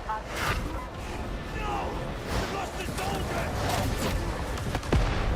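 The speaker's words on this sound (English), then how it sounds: "Let's start with some crack grenades" Crack grenades going off in Darktide, a dense barrage of booming blasts and gunfire-like cracks arriving in volleys, with a chaotic din throughout and a voice talking over it.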